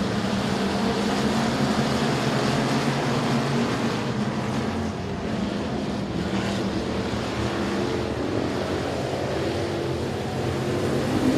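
A pack of dirt track race cars in a B main at the Louisiana Dirt Track State Championship drone on steadily, engines blending into a continuous roar that dips briefly midway and then swells again.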